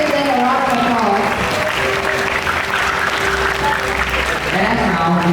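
An audience at a student leaders' investiture ceremony applauds the reappointed student councillors, with loud, sustained clapping filling the hall and music playing underneath throughout.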